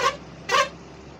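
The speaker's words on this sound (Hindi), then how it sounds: "आगे से कार, उनको हॉर्न देते हुए।" Two short car horn honks a half second apart, fairly close, over faint low road hum, sounded from a vehicle chassis being driven on a mountain ghat road.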